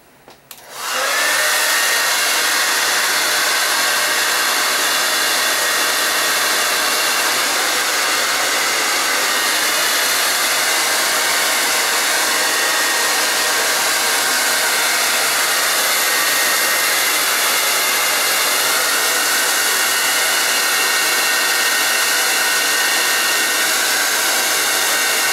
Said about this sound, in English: so pick the diffuser of your choice.